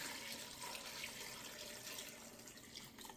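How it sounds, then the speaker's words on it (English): Faint, steady running water pours into a pot, a continuous splashing rush with no talking. "Cover them with water again"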